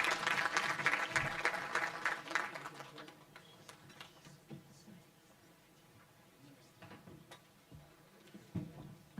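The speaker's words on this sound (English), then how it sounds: "Another round of applause for our Premier." An audience at a memorial lecture applauds the Premier: a dense burst of clapping for a couple of seconds, then it thins out into scattered claps and light knocks.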